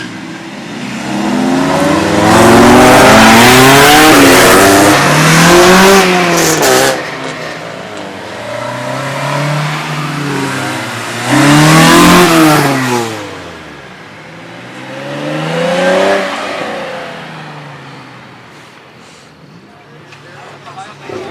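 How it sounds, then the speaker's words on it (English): A custom-built purple Honda hatchback revs its engine in three long surges that climb and fall in pitch, loud and close, with people talking over it. "He's like revving and shit."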